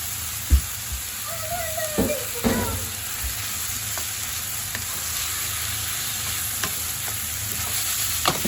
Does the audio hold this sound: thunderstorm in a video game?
no